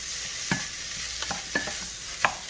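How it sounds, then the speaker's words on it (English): Ground Italian sausage cooking in a very hot pan, a steady loud sizzle broken by a few sharp scrapes and taps of a spoon against the pan. "Got the temperature up nice and hot. And I'm just going to kind of let this sausage cook in right here."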